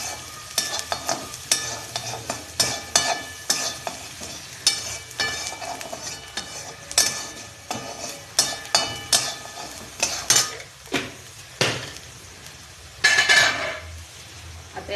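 Salt being stirred into a poha mixture in a pan, with brisk metal-on-pan scraping and clinks repeating at a steady rhythm over a light sizzle.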